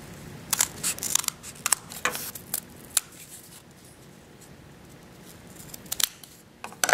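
Scissors snip through cardboard to trim marked one-inch corners for a tabletop fountain model, several sharp close cuts in quick bursts with a quieter pause midway, then more snips near the end.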